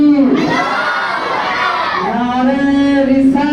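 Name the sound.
crowd responding to Naara-e-Takbeer chant at religious gathering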